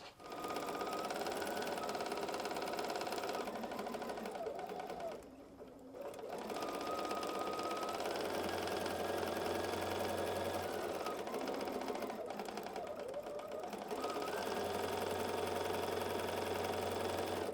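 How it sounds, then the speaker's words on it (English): A sewing machine runs steadily and loudly, stitching patchwork fabric corner to corner in a fast continuous whir, stopping briefly twice before resuming. "let's take that to the machine and sew corner to corner"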